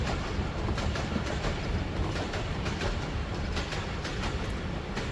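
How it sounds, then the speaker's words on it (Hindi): A train passes along the railway track behind the Tomb of Nur Jahan, a steady, fairly loud rumble with rhythmic clickety-clack of wheels on rails throughout, no voices. "तो वहाँ से ट्रेन गुज़र रही है।"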